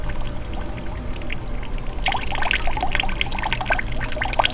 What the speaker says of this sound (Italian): Ho aperto l'acqua del lavandino senza accorgermene.